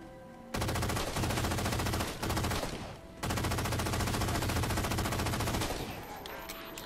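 Rapid automatic turret gunfire from the video game Halo 4, loud and continuous in long sustained bursts with a couple of brief breaks, then easing slightly toward the end.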